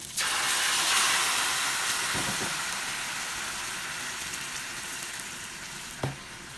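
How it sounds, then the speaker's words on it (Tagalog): Cooking cream is poured over fish in a hot pan, bringing a loud burst of hissing sizzle that slowly fades into a steady simmer, with a small knock near the end. No voices. "Tapos lalagyan natin siya ng cooking cream."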